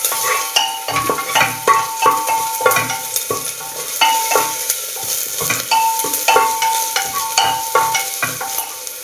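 Chopped ginger frying in a pan on medium heat for a coriander chicken soup, with a steady sizzle and repeated stirring scrapes and utensil knocks against the pan, close and continuous without speech.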